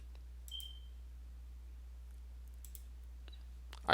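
A few quiet computer mouse clicks sound in a quiet room during work in JIRA project software, with a short beep, and a louder click burst at the very end.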